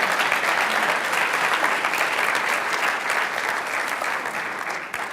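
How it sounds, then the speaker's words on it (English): Sustained applause from an audience honoring senior blood donors at a San Diego Blood Bank event, dense and even throughout, fading slightly at the end. "Please give them a round of applause."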